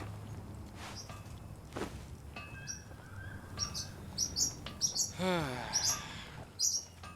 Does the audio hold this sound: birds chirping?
yes